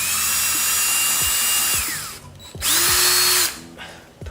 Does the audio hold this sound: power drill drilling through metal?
yes